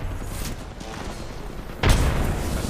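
Frag grenade detonating in a mobile shooter game, a single dull boom that hits suddenly near the end after a stretch of low background game noise, then lingers as a rumbling tail.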